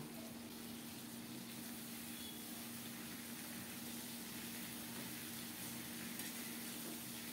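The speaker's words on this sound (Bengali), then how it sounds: "প্রথমে আলু দিয়েছি, একটু নেড়ে চেড়ে কিছুক্ষণ ভেজে নেব" Potatoes fry in plenty of oil in a pan, a faint, even sizzle and bubbling that runs steadily throughout, heard from a little distance with a low hum underneath.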